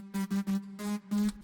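Fuzzy, driven lead guitar widened in stereo by a Faderator plugin, playing five loud sustained notes in short bursts with brief gaps between them, no voices.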